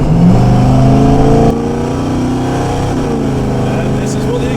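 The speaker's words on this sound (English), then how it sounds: "And this is what the exhaust sounds like." A 1972 Chevelle SS exhaust revs loudly, then drops to a lower steady burble, with a voice heard over the engine.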